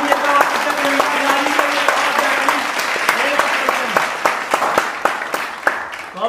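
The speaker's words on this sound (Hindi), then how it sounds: "एक बार जोरदार तालियां बजनी चाहिए" A studio audience at a children's talent game show breaks into loud, sustained applause, the dense clapping fading slightly toward the end.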